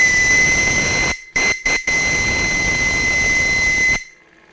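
A steam pressure reducer on a steam launch engine whistles steadily in a loud, piercing tone over a hissing rush of steam, cutting out briefly three times before stopping abruptly.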